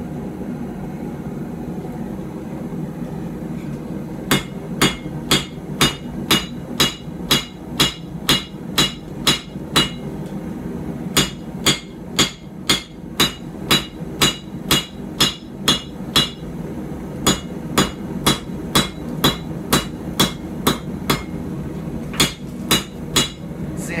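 Hammer blows forging a puukko knife blade, drawing out and narrowing the steel, ring out in steady bursts of sharp, evenly spaced metallic strikes with brief pauses between runs, close and loud over a low shop hum.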